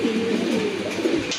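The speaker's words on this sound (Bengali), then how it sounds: "আরেক জোড়া লাহোরি কবুতর" A pair of large, bright red Lahori pigeons cooing close by, a steady low warbling coo that rises and falls over about a second and a half, with faint background noise.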